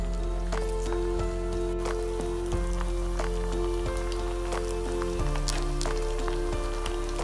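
Mutton kola balls sizzle and crackle steadily in hot oil over a medium flame, a dense continuous frying hiss with scattered pops and a low steady hum underneath, no voices.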